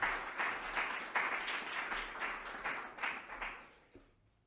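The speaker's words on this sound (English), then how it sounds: "So, Greta, welcome, Greta, with a round of applause." Audience applause welcoming a speaker named Greta to the podium, a brisk round of many hands clapping at moderate volume that tapers off and fades out near the end.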